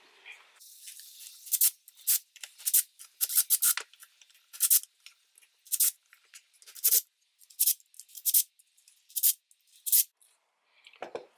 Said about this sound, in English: remove all the screws all the way around and split it apart